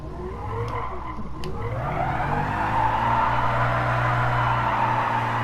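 A car in a sim racing game spins donuts, its tires squealing in a long, rising screech over the steady drone of a revving engine. The sound holds loud and continuous throughout.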